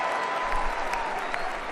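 A crowd applauds and cheers steadily throughout, a dense wash of clapping with a few louder bursts, fairly close and with no voice standing out above it.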